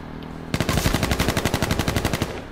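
Rapid automatic gunfire in the battle royale video game H1Z1 Battle Royale: after a brief lull, a loud, sustained burst of evenly spaced shots rattles on for about two seconds.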